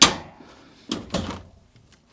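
A garage door opened over a rubber sill, heard as a loud initial thump followed by two clattering rolling bursts as the door lifts, then quiet.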